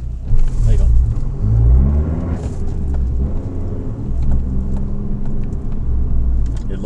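Turbocharged four-cylinder engine of a Fiat 500 Abarth driving, a steady low rumble with brief swells of revving, heard from close by as people talk over it.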